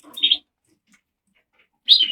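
Two short bursts of bright chirping from cockbirds caged in a bird room, one near the start and one at the end, separated by near silence, fairly close and clear.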